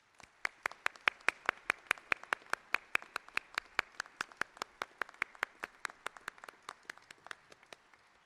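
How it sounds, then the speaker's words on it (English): Applause at a submarine memorial dedication ceremony comes as crisp, evenly spaced claps in a steady rhythm, fairly quiet and close, keeping the same pace throughout before softening near the end. "Would you please give them a round of applause?"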